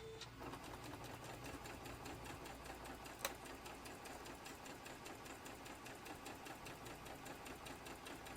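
A sewing machine stitches a quilt at a steady, comfortable speed, its needle chattering in a fast even rhythm, close and fairly quiet with no talk over it.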